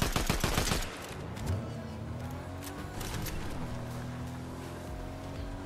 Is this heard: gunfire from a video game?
yes